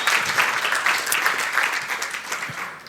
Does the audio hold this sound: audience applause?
yes